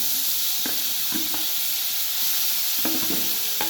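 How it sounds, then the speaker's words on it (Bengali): Ground lentil paste frying in a little oil in a wok, giving a steady broadband sizzle with a few soft scrape-like stirring knocks, close and moderately loud, no voices. "দিয়ে ডালটাকে একটু ভেজে নেব"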